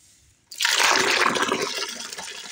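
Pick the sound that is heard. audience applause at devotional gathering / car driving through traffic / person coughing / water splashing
water splashing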